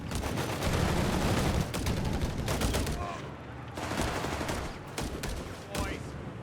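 Rapid bursts of machine-gun and rifle fire from a Company of Heroes 3 multiplayer battle, dense volleys that pause briefly and resume, with a commentator talking over them.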